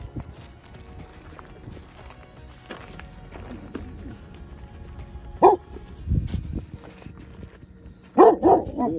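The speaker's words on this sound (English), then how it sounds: "Are you barking at the camel?" A dog barking at a camel in a desert town cemetery, a few sharp barks toward the end over a steady outdoor background, with some thumping movement nearby.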